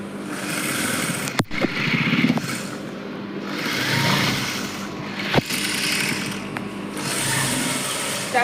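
An electric sewing machine running steadily while stitching a double seam on the side opening of a chudidar, a continuous close motor whir with brief pauses and clicks, no speech.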